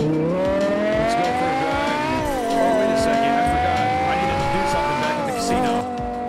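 Car engine in the FiveM video game, a sustained droning revving tone that rises and dips as the car drives and shifts, steady and fairly loud.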